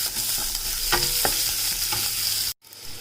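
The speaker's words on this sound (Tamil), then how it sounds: "வெங்காயமும் நல்லா வதங்கட்டும்." Onions sautéing in coconut oil over a low flame, a steady close sizzle with soft stirring scrapes, briefly cutting out near the end before resuming.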